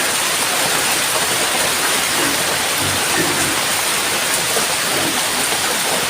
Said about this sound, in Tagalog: Umulan na naman, tamang-tama.